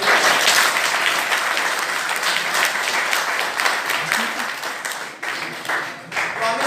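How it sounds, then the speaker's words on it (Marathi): Sustained applause from a seated audience at a Marathi-language career guidance and motivational lecture, dense steady clapping that holds strong for several seconds and thins slightly toward the end, with no talk over it. "तुम्ही स्वतःसाठी जोरदार टाळ्या वाजताल की"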